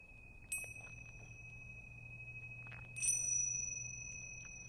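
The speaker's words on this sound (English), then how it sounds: "I'm going to ring the bell. I'll signal the end of this part of our practice." A bell rung to close the relaxation part of a yoga class, sounding as two bright metallic strikes, the second about two and a half seconds after the first, each with a long sustained ring over a quiet room with a low hum.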